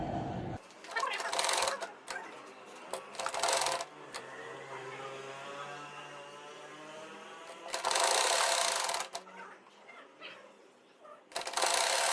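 Domestic sewing machine stitching the hem of a salwar, with several loud bursts of rapid mechanical whirring separated by quieter pauses and one long steady run in the middle, heard close up.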